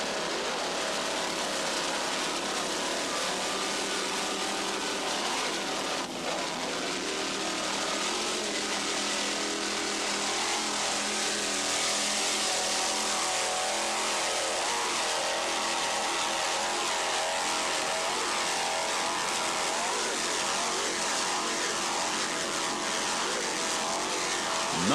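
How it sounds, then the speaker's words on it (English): Offshore racing powerboats with Zool racing inboard engines roar steadily and loudly at 1998 Key West offshore racing, a dense, continuous engine drone with shifting pitch and no break. "Just listen to those Zool racing inboards."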